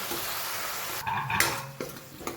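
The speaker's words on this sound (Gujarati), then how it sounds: "ટમેટા સોટે થાય ત્યાં સુધી આપણે લસણ એડ કરી દઈશું" Tomatoes and onion with garlic sauté in a pan, a steady close sizzle broken by a few stirring scrapes and clinks of a utensil against the pan.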